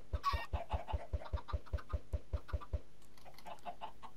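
Chickens in the video game Minecraft cluck loudly in a quick, steady series of about a dozen short clucks, then quieter scattered clucks trail off, with no talking.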